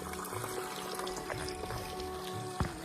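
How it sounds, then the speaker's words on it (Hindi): Thin stream of water trickling from a small seep on a mountain trail in Uttarakhand in winter, a steady close liquid patter with a brief louder splash near the end. "इस जगह से हल्का हल्का पानी आ रहा था"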